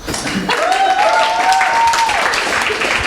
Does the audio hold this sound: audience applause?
yes